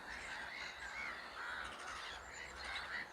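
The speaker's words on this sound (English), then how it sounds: "Wigeon call." Whistling Eurasian wigeon duck calls rise and fall repeatedly beneath a steady din of harsh, squawking black-headed gull cries, with no voices present.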